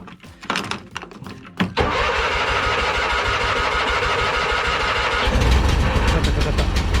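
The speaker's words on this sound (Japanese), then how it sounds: "エンジンかかるかな。" A restored MAX IV amphibious vehicle engine with its choke pulled cranks briefly, then catches and settles into a loud steady idle that rises slightly near the end.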